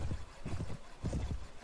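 A horse gallops in the Mount & Blade Warband game, its hooves beating in a quick, uneven rhythm of soft thuds that repeat steadily at moderate volume, close by, with no one speaking.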